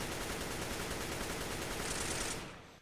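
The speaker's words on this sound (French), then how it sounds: "je vous montre avec la k 47 alors ça va être un peu plus bruyant" Rapid, continuous AK-47 automatic fire from CS:GO, dense and loud for over two seconds, with an added bright ringing layer over the final few rounds before the burst cuts off.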